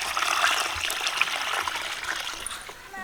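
A bucket of water is poured out and splashes down, a continuous close gushing and spattering that tapers off over a few seconds.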